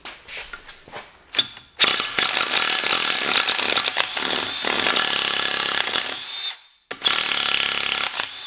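A cordless Bosch GFA12-H rotary hammer with an 8 mm bit drills into masonry in loud, close bursts of rapid hammering buzz, with brief pauses and a short stop before resuming.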